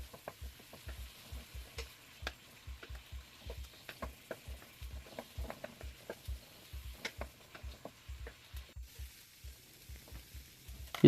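Beef stir-frying in an avocado-oiled pan with a little oligosaccharide syrup, giving a steady sizzle broken by quick rhythmic scraping strokes of a utensil, close and moderately loud with no talking.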